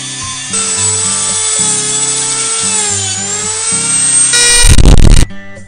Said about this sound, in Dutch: Dus nu ga ik deze schroeven afslijpen met de Dremel Multi.